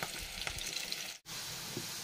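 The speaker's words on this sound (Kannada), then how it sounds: "ಸ್ವಲ್ಪ ಉಳ್ಳಾಗಡ್ಡಿ ಹಾಕೊಂಬಿಡೋಣ ನೋಡಿ" Onions frying in hot oil as part of an egg dum biryani, a dense continuous sizzle close by, broken by a brief near-silent gap midway before the crackle resumes.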